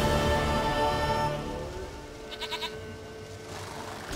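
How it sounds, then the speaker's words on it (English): A goat bleats in The Witcher 3: Wild Hunt, a short run of wavering, quavering calls heard clearly over steady ambient game sound and light rain. "Goat of mine, dearest, sweetest goat."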